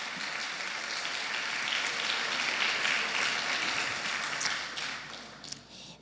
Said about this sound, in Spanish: dele un aplauso al Señor por esos cambios si usted los ha tenido